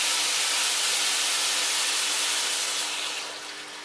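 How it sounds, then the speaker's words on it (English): Water pours steadily into a pan of almond chicken curry as a loud, continuous rushing hiss that eases off slightly at the end. "now we're going to add the water in"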